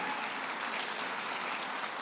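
Steady, dense applause from a church congregation during a Christian sermon service, a continuous wash of many hands clapping at even loudness with no voices over it.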